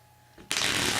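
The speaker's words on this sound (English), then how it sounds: "they can actually shuffle the deck as much as they want to" Someone riffle-shuffles a deck of playing cards for a card trick, a sudden close, continuous fluttering rush after a brief quiet moment.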